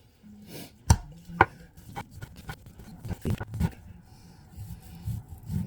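Knife chopping raw beef into pieces on a cutting board for Italian braciole, with sharp irregular knocks and scraping cuts up close, quiet between strokes.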